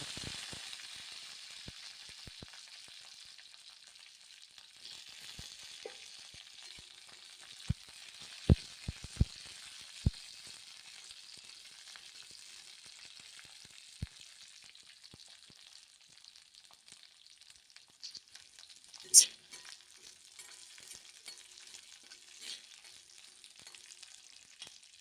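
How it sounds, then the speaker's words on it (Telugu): Green chilies fry in a spoonful of oil in a kadai, giving a soft, steady sizzle with scattered sharp pops and a few louder crackles. "కడాయిలోకి ఒక స్పూన్ ఆయిల్ వేసుకుందాము. వేసుకున్న తర్వాత ముందుగా పచ్చిమిర్చి వేసేద్దాం."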